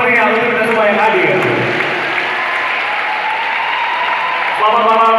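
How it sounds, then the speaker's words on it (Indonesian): Audience applause at Palembang Fashion Week, a broad wash of clapping running under a loud voice talking over it through the whole stretch. "Kita tepuk tangan yang paling meriah untuk kita semua yang hadir"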